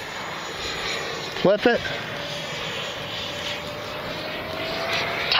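Radio-controlled F-16 with a 70mm electric ducted fan flying overhead, a steady rushing whine that swells slightly toward the end, with a man's short remark cutting in near the middle.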